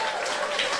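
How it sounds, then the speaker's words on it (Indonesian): Brief burst of church congregation applause, a broad wash of clapping at moderate level with no gaps, lasting under a second. "Tepuk tangan yang meriah buat Tuhan"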